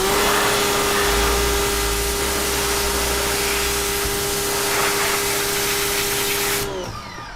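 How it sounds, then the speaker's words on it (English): Water is sprayed continuously from a hose to wash crystals, a loud, steady hiss with a droning hum beneath it that cuts off near the end. "I'm gonna spray it over this way"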